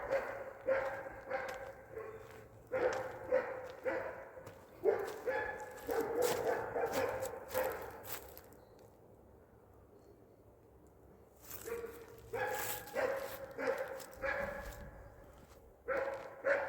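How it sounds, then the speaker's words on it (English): Several big dogs bark in repeated bursts, loud and fairly close, with a pause of quiet in the middle before the barking starts up again. "Some big dogs."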